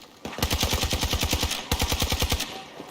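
Rapid automatic gunfire in the shooter Battlefield 2042, two sustained bursts of close, loud, evenly spaced shots separated by a brief pause, with no talk over them.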